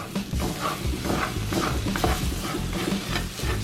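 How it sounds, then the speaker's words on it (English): Eggs fry in leftover bacon grease in the same pan while a flat spatula keeps pushing them around, giving a close, busy sizzle broken by steady scraping strokes. "I'm gonna cook the eggs right in the same pan as the bacon"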